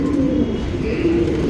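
A male pigeon coos in short, soft rounded notes, close by and clear, with no talking over it.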